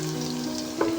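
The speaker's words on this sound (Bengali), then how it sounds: "তারপরে এর মধ্যে আমি দিয়ে দেব রসুন কুচি" Chopped garlic frying in oil with whole cumin, a steady close sizzle with a soft stirring bump near the end, no voices.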